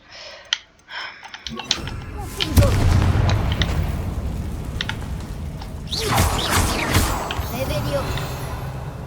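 Bombarda spell explosions in the Hogwarts video game: a couple of deep booming blasts with crashing debris and rumbling, separated by game effects and a player speaking over them.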